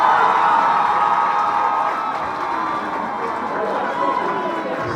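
Large crowd at a political rally cheering and applauding, a loud, dense roar of voices and clapping that swells at first and then holds steady.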